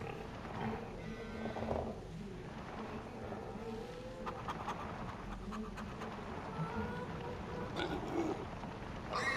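Cattle moo in the Farming Simulator 25 video game, drawn-out lowing calls rising over a steady bed of ambient farm and engine-like noise, with faint clicks scattered through.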